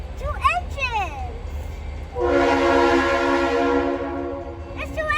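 Two locomotives pull a fast train along the tracks at New Hope, Pennsylvania, sounding a loud, sustained horn blast over the rumble of the passing cars, with a voice speaking briefly before and after.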